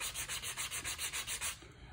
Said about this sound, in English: just start with a gentle sanding motion until you really get the hang of it